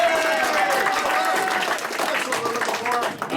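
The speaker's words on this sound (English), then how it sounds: "here's the clap sound one more time" A prerecorded clapping sound effect plays on a live country radio show, a dense crowd-style burst of applause at steady volume with voices mixed in around it.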